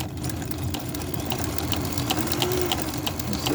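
A Kenmore 1813 sewing machine stitches steadily, its motor humming with a fast even needle clatter, close and continuous with no talking.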